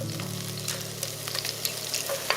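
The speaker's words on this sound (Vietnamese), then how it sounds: "Rồi mình thêm hành tỏi vào phi lên cho thơm." Onion and garlic fry in rendered chicken fat in a pan, a close, steady sizzle with crackling pops and occasional stirring scrapes, no talking.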